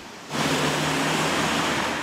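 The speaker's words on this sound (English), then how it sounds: "sending a small river of water flowing down the hill" Water from a broken water main rushing down a hillside road on Laurel Canyon Boulevard, a loud steady roaring wash that starts suddenly and holds constant, with no voices.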